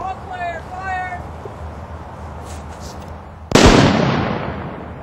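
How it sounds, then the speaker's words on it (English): A Rodenator Pro ignites propane and oxygen pumped into squirrel burrows at Finch Arboretum, setting off one sudden, loud, sharp blast that rings out after a stretch of quieter background and faint voice-like tones. "First he pumps propane and oxygen into the squirrels' holes, then an electric spark causes an explosion"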